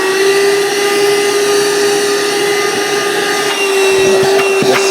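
A Vaclife cordless wet-or-dry vacuum cleaner runs continuously close by with a loud, steady high-pitched whine and airy rush, and its motor pitch wavers slightly toward the end.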